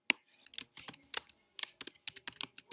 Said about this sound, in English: I'm going to type my main idea for this section.